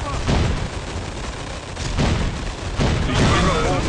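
Grenade blasts amid constant WW2 battlefield gunfire in the Road to Valor strategy game, a dense, loud roar of shots and booms with surges at intervals and shouted voices mixed in.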